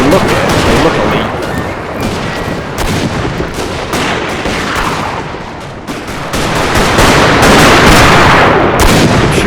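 Musket and artillery fire in a Total War video game set at the 1861 Battle of Bull Run, heard as loud, dense crackling volleys and booms that continue without pause, with no clear speech.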